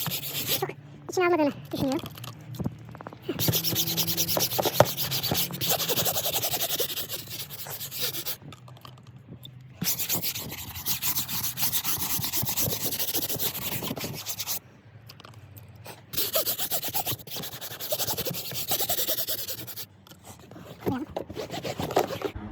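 A brush scrubs car seat upholstery during interior cleaning, rough rhythmic rubbing strokes that come in bursts and stop between passes, with someone speaking at times.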